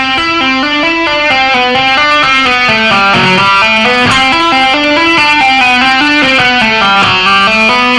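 Electric guitar plays a rock lick at a slow tempo, a steady run of quick hammer-on and pull-off notes with first-finger slides, sustained and slightly overdriven, alone without talk.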